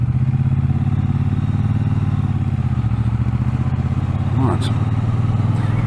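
A Triumph T120 Bonneville motorcycle exhaust rumbles steadily and loudly throughout, a deep continuous engine drone with brief clatter near the end, while a voice speaks over it.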